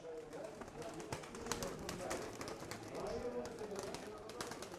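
Pigeons coo softly and steadily at a pigeon sale, low murmuring calls repeating throughout, with someone talking over them and some rustling nearby.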